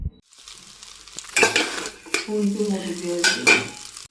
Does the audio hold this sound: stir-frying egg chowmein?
yes